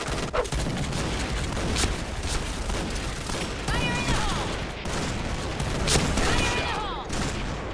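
Gunfire in the Point Blank online shooter game comes as dense bursts of rapid shots and booms, fairly loud throughout, with brief gaps between volleys and faint voices now and then.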